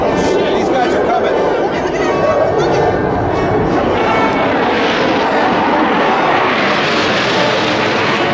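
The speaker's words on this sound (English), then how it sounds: "we were perfectly positioned to really be able to feel these airplanes going over" Airplanes at an air show roar low overhead in one continuous, loud engine rush that sweeps and shifts in pitch, with crowd chatter underneath.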